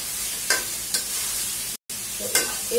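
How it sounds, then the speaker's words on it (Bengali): Spices fry in hot oil with a steady sizzle, broken by several sharp scraping stirs across the pan and one brief dropout in the middle. "তো এই তেলটার মধ্যে মশলাটার মধ্যে এটা ভাজা ভাজা হবে"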